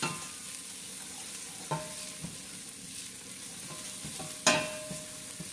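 A paprika mixture for mussels being stirred in a pan, soft steady sizzling with a few faint utensil knocks and one sharper clack near the end, fairly quiet and close, no voices.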